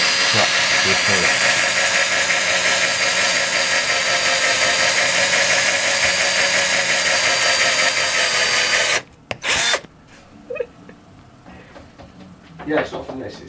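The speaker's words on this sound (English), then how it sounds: "You have to be careful when breaking through with the drill and not crack the acrylic." A power drill bores through acrylic plastic for a DIY LED digital clock, whining loud and steady for about nine seconds before cutting off, followed by a few scattered clicks and handling knocks.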